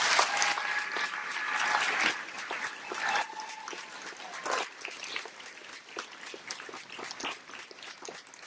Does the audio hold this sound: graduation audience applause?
yes